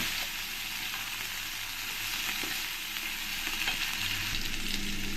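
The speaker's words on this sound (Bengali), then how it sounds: "এবার এই তেলের মধ্যে আমি যে আলুটাকে গোটা গোটা করে কেটে নিয়েছি আলুটাকে আমি ভেজে নেব" Potato cut into chunks frying in hot oil, a soft continuous sizzle with occasional light scraping of a spatula, fairly quiet and steady with no talking.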